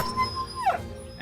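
A dog in the Battle Brothers video game lets out a short, whining yelp as it dies, a single brief cry rising over steady game ambience and music.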